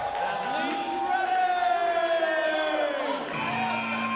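Crowd at a World Chase Tag team event cheers and yells as the team captain stirs them up, a steady roar of voices with a held whoop sliding across it, loud throughout.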